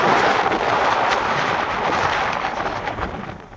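A heavy, steady roar of rain on the road to Somnath, loud and close, tapers off a little near the end.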